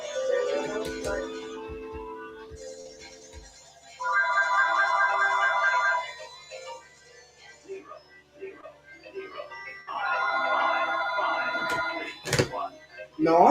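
A loud Uniden cordless phone ringer sounds in two long electronic ringing bursts separated by a pause, with a fainter ring tone beforehand and a few clicks and thumps around it.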